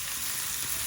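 Chopped onions sizzle in hot oil with cumin seeds, a bay leaf and a cinnamon stick, giving a brief, close, steady frying hiss.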